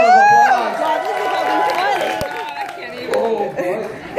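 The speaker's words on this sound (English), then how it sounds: "give them a nice round of applause." Studio audience at a love-and-marriage game show claps and cheers, a crowd of hands and voices that stays fairly loud throughout, with chatter mixed in.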